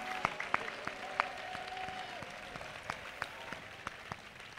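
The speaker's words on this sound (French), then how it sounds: "Let's clap for Jesus Christ." A church congregation claps in praise, sharp hand claps spaced irregularly over a steady room murmur, moderately quiet and a little distant, with a faint sustained voice or tone underneath.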